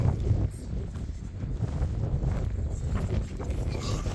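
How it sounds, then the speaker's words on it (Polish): Wind gusts buffet the microphone with a low, rumbling roar that swells and eases throughout, with no one speaking. "Mamy wiatr."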